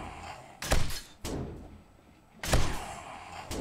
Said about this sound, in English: This nail gun does shit for damage.